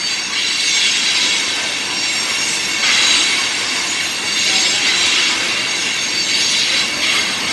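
A CSX Q415 mixed freight train slowly passes Point of Rocks station, its wheels letting out a loud, sustained metallic squeal that swells and fades in waves over the rolling rail noise, with no voices.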